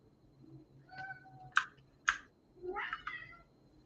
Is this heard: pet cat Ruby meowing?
yes